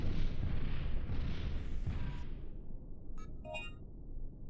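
Gunfire bursts in Dino Crisis 2 on PS1, a loud rumbling blast and crackle that fades into a few sharp, tinny electronic blips near the end.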